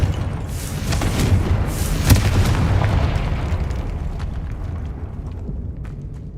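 Confringo blasting spell going off in Hogwarts Legacy, a heavy booming explosion that swells over the first couple of seconds, peaks in a sharp burst, then rumbles and decays with scattered crackles, no voices.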